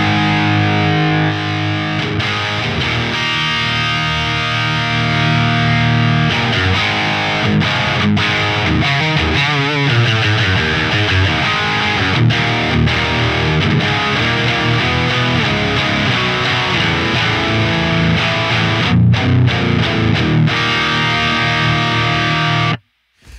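Electric guitar played through the Neural DSP Fortin Cali amp simulator with the pulse saturation switch on, a dense, heavily distorted, scooped tone sustaining loud and continuous for over twenty seconds before cutting off abruptly.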